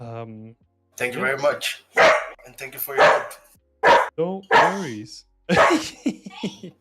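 A pet dog barks a few sharp times near the microphone during an online feedback call, the barks breaking in between and under people talking.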